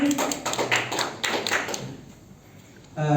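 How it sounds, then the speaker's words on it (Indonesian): A classroom group claps together in a short burst of applause for everyone, dense patters of hand claps fading after about two seconds, with a brief voice near the end. "Tepuk tangan untuk semuanya"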